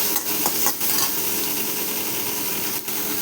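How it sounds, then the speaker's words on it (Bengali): Onion with green chilies frying in a pan, a close steady sizzle with a few brief stirring scrapes near the start and end, no talking. "পেঁয়াজটাকে আদা ভাজা ভাজা করবো,"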